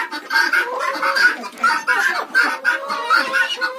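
Hens cluck steadily in a henhouse at close range, a repeated rhythmic chorus of clucks from at least two birds squabbling over a spot, with no talking.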